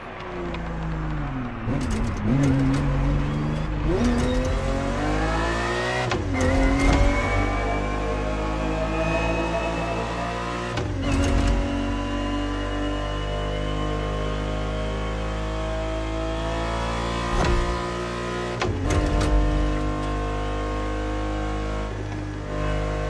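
Ferrari 365 GTB4, a 1970s car, in the racing game Crew Motorfest, its engine steadily droning and rising in pitch through repeated revs, with sharp gear-change breaks and a continuous loud tone throughout.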